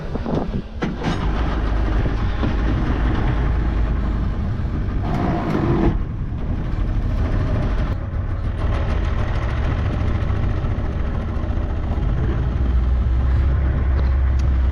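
A jet ski's loud, steady motor drone fills the scene continuously, running close by on the water of a reservoir.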